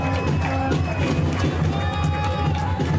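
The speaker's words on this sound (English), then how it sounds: "The home crowd with wild reactions to the home team drawing level." Home crowd at a women's football league match roaring wildly as the home side draws level late in the first half, a dense sustained wall of cheering, loud and continuous.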